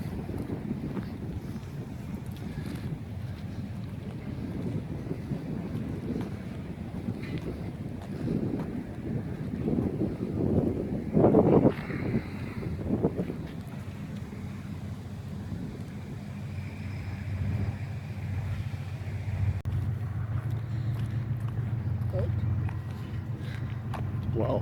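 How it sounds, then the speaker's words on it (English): Large ship passing on a river near a lighthouse waterfront, a low steady engine rumble under heavy wind buffeting on the microphone, with a deeper droning hum building toward the end. "Wow, big boat."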